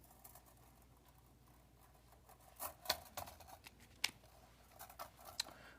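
Several sharp metallic snips from cutters trimming aluminum wire while making a flower ring, a few scattered clicks and cuts at close range over a quiet room background.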